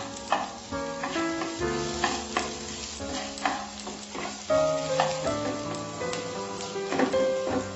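Onions fry lightly in a pan at the start of a tomato soup, a steady soft sizzle broken by repeated scrapes and knocks of a spoon stirring, close up and without talk.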